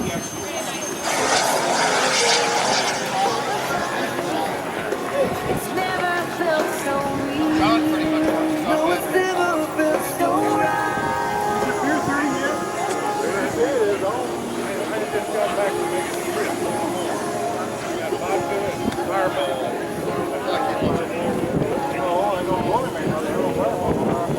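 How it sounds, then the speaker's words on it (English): A model jet aircraft at a Florida flying contest whines past with a continuous turbine roar, while someone talks over it throughout. "I think everybody recognizes this jet."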